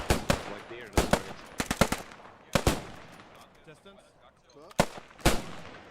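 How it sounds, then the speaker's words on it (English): MP40, SG44 and MG42 gunfire in the WWII shooter Post Scriptum, loud sharp single shots and short bursts at irregular intervals, some close and some more distant, with no talk. "We've got an MP40, an SG44, Heinz, an MG42, just having pop shots."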